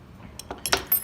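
A few light metallic taps of a center punch on aluminum, sharp and close, spaced irregularly over about a second in an otherwise quiet space.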